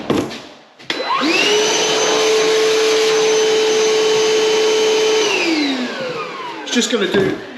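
A Titan wet vacuum cleaner whirs up, runs loud and steady with a high whine, then winds down as it switches off.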